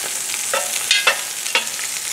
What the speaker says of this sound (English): Cooking jambalaya.